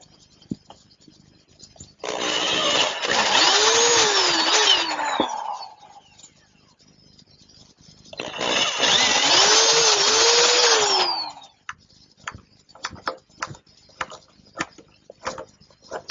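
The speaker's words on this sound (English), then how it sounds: "First step is to drill some pilot holes." Two bursts of a power drill boring pilot holes for stainless steel screws, each lasting about three seconds with a pause between, followed by scattered light clicks and handling noises.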